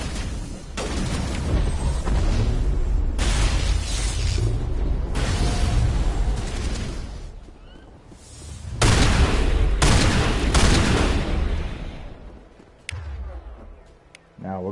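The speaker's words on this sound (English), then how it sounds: "How do you like my shotgun?" Shotgun fire in Mass Effect: Legendary Edition on PS5, heavy repeated blasts in long booming bursts with explosive rumble, a voice talking over the combat.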